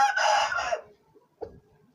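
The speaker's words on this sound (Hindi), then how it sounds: "ये भी बड़ा प्यार वाला मुर्गा है" A rooster lets out a short, loud crow up close, followed by quiet and a single brief cluck-like call.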